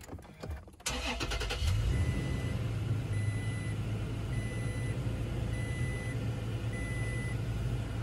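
A Toyota Tacoma pickup cranks briefly and its engine catches, then settles into a steady, close idle rumble while a faint repeating beep sounds over it.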